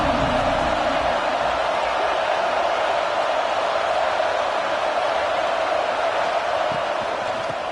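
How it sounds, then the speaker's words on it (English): A college football video game stadium crowd for a matchup against Kentucky gives off a steady, dense roar that holds at a constant loud level throughout, with no distinct voices standing out. "This crowd ready to make its presence known."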